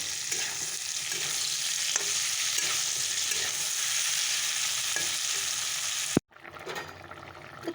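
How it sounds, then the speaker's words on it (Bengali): Potato and cauliflower curry fries in a pan in a home kitchen, a continuous close sizzle with stirring that ends with an abrupt knock, followed by quieter kitchen noise. "আলু ফুলকপিটা বসিয়ে দিয়েছি মশলাটা দিয়ে দেবো"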